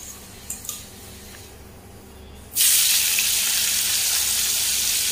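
Elephant foot yam drops into leftover oil and bursts into a loud, steady frying hiss that fills the rest of the moment after a few faint clinks.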